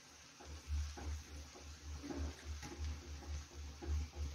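Fried rice with Schezwan chutney being stirred in a pan, soft scraping and light sizzling in repeated strokes, fairly quiet over a low steady hum.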